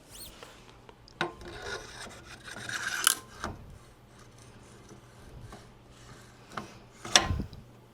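Magpul wrench working loose a mil-spec barrel nut on an M16 A2 rifle, giving scattered scraping and rubbing clicks with a few sharper metallic knocks around the middle and near the end, close by with no talking.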